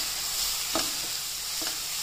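Spices and tomato sauté in a pan for baingan bharta, a steady close sizzle with a couple of soft scraping stirs, heard alone without talk.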